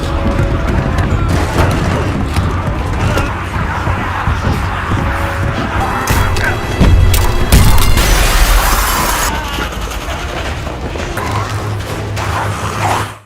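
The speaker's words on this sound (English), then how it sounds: "the overwhelming number of zombies eventually shatters it" Glass door shattering under the weight of a crowd of zombies, loud and dense with crashing, creaking and thudding layered over a continuous roaring film-soundtrack din.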